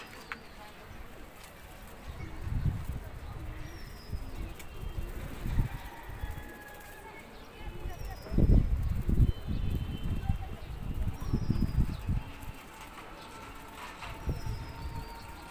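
Pigeons of fancy breeds cooing softly in a loft, with bursts of wing flapping and rustling close by, while someone talks over them throughout.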